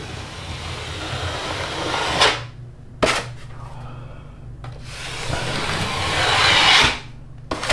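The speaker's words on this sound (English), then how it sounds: "I'm trying to scrape off as much of this as I can" A drywall knife scraping spackle off sheetrock at a corner, long rasping strokes that build, stop sharply and repeat, with a couple of brief knocking taps between passes, close and fairly loud over low background hum.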